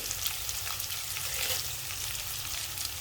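Onion and tomato sautéing in a pan give off a steady, moderately faint frying hiss with a few soft stirring scrapes, heard alone throughout.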